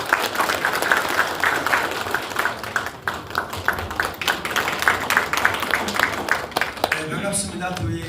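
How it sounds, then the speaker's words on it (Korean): Applause welcoming the chairman of the Jeju Special Self-Governing Provincial Council at a committee launch ceremony in a chamber of commerce hall. The crowd claps steadily and fairly loudly for the whole stretch, with some voices mixed in. "큰 박수로 환영해 주시기 바랍니다."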